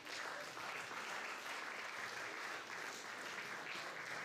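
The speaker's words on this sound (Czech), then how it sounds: "Tak máme tu Vřelé dívky a Anežku zatleskáme" A crowd claps throughout at a live children's show with school performers in Czechia, steady continuous applause heard at a moderate distance, even in level from start to finish with no voices.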